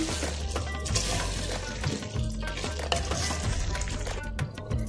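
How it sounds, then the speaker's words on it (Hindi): Tomatoes stirred into beef for makhni handi, close spoon scrapes and clatters in an irregular rhythm over a steady sizzle of frying. "टमाटर डाल के इसको अच्छी तरह से मिक्स कर लूंगी।"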